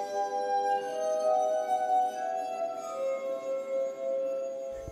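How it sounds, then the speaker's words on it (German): A self-built glass harp of 33 water-tuned drinking glasses rings out in sustained, pure overlapping tones, several notes sounding together and shifting slowly, close and steady with no talking. "Das ist eine selbstgebaute Glasharfe."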